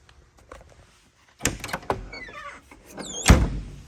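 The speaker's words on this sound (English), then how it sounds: "Door shuts good." A John Deere SoundGard tractor cab door, likely on a 4560, 4760 or 4960, swung with metallic creaks and squeaks, then shut with a firm, loud thunk close by near the end.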